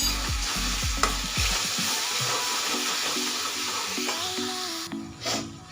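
Matki gravy with Everest masala being stirred in a frying pan: a steady oily sizzle with repeated spoon scrapes and knocks against the pan, close and fairly loud, with no voices.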